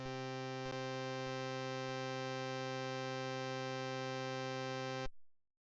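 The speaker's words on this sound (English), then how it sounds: "now let's add each of the overtones, what these are called, the integer multiples." A low synthesized tone built up with stacked integer overtones sounds bright and buzzy. It sustains evenly for about five seconds, then cuts off sharply into silence, with no voices present.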